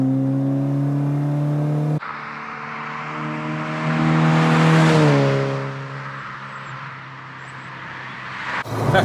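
A 1600 Ford Fiesta XR2 engine runs close by, its note climbing as the revs rise, peaking, then settling back to a steady drone.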